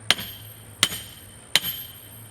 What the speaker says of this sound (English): By hammering on this side, I'm leaning my pipe just a little bit that way to help straighten it up.